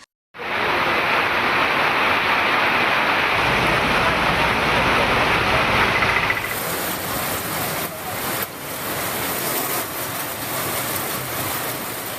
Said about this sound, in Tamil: அரை மணி நேரத்திற்கும் மேலாக கனமழை பெய்தது